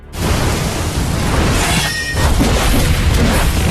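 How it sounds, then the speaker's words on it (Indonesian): Red energy explosion attack in an animated fantasy series: a loud, sustained booming blast with crashing rumble and hiss that swells after a brief dip, heard alone without talk. "Wakil dekan Jia kemudian melepaskan serangan ledakan energi merah"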